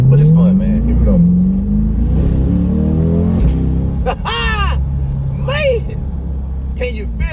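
A Corvette C8 pulls hard along a back road, its engine rising in pitch through a long acceleration and a gear change, loud and close throughout, with someone talking briefly over the drone.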